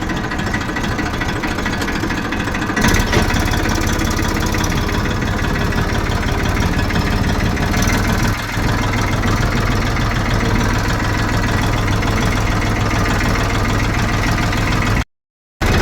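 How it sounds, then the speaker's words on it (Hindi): A farm tractor's engine idles and runs steadily with a loud, continuous low rumble and knocking vibration, close by, before cutting off abruptly near the end. "तो खैर ट्रैक्टर लेके चलते हैं।"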